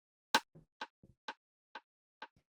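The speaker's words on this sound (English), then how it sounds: "The next sound we have here is this Rimshot" A 707 drum machine rimshot sample with reverb plays alone, six sharp bright clicks evenly spaced about half a second apart, each trailed by a short, softer low echo.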